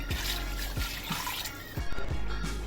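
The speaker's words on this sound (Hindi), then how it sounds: "अब मैं इसमें ऐड करने जा रही हूँ 2 गिलास पानी।" Two glasses of water poured into a pot of potatoes and mutton for aloo gosht curry, a steady splashing pour with a few brief clinks and sloshes, close and alone.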